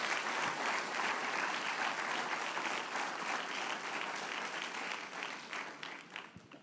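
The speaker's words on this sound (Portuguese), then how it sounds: "convido você a dar uma linda salva de palmas para o Senhor" A church congregation gives sustained applause, a dense, even roar of many people clapping at moderate distance that gradually thins and tapers off toward the end.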